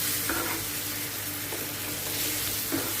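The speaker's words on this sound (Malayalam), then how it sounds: "നല്ലതുപോലെ ഒന്ന് ഇളക്കി കൊടുക്കാം. നമുക്ക് ലോ ഫ്ലെയിമിൽ തന്നെ വയ്ക്കുക." Dates and lemon pickle stirred in a pan over a low flame for a homemade Kerala pickle, giving a steady soft sizzle with a few faint scrapes of the spoon, alone and close.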